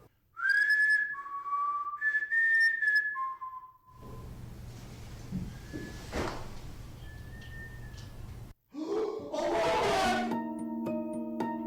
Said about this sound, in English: you can hear someone or something whistle back at them.